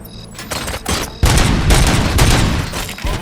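Loud, close bursts of rapid gunfire with heavy booms in the video game RoboCop: Rogue City, overlapping shots rattling without pause.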